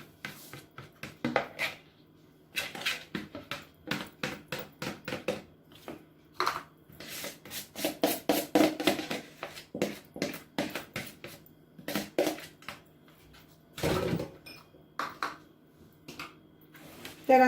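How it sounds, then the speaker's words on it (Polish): Wet ingredients poured into dry ones for a simple blueberry cake batter, then stirred with a utensil knocking against a bowl, giving a rapid run of clinks and taps that pause at times, with no talk. "I teraz do suchych składników wlewamy mokre"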